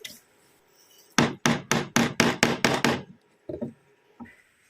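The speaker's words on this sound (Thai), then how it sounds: "แล้วก็นำตะปูไปตอกนะครับ" A quick run of about eight sharp hammer blows on a short nail into wood, evenly spaced and close, then two softer taps after a pause.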